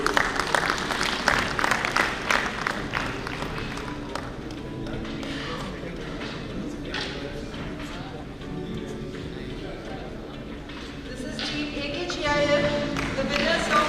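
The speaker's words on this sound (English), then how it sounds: "Round of applause for all the winners, please." An audience at a national management convention's valedictory session applauds the winners, with moderate, uneven clapping mixed with voices and other hall noise throughout.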